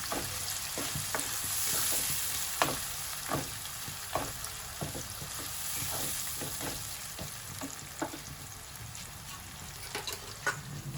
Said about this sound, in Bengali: পেঁয়াজটা হালকা লাল লাল করে ভেজে নিই